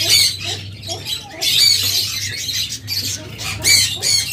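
Pet birds such as lovebirds and cockatiels, kept as breeding pairs at a bird seller's, squawk and chirp in repeated shrill bursts over a steady low hum, close to the microphone.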